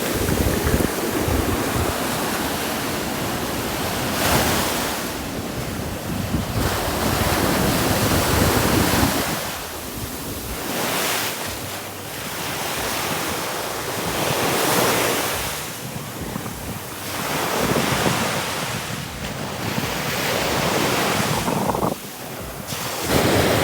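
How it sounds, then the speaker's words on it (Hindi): Ocean waves crash repeatedly at Thiruvanmiyur beach, loud surges swelling and breaking every few seconds with heavy wind buffeting the microphone throughout. "ऊंची ऊंची उठती हुई लहरों की जो आवाज़ें आप सुन रहे हैं"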